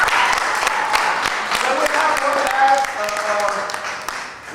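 A senior citizens' theatre audience claps for a stage performer, giving a loud, dense spatter of applause that fades near the end while a voice speaks over it.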